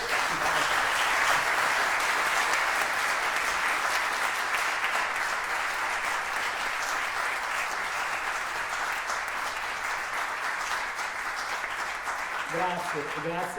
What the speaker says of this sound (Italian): io direi un applauso a questi compositori